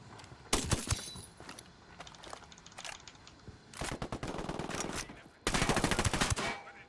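Automatic gunfire and single shots in a Ghost Recon firefight against cartel rebels in Santa Blanca, Bolivia, coming in loud bursts separated by short pauses, with a long sustained volley at the end.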